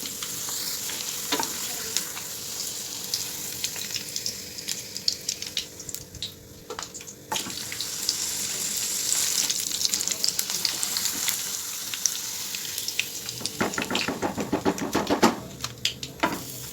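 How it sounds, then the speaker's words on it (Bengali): Papads frying one at a time in hot white oil, a steady close sizzle with bursts of bubbling and occasional clinks of a utensil, louder toward the end. "এখন হচ্ছে পাপড়গুলো একটা একটা করে আমি বেজে নেব।"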